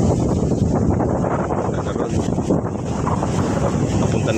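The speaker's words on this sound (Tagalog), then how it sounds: "Ganyan ang malakas ang hangin," Strong monsoon wind on a seashore blasts the microphone in a loud continuous roar, with surf rumbling underneath and gusts rising and falling.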